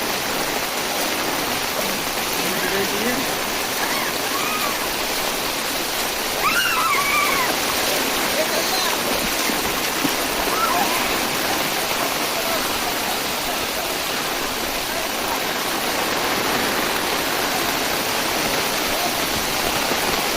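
Heavy rain pours steadily over a flooded village, a dense continuous roar and splash of water on water lasting the whole stretch, with a brief spoken word barely rising above it.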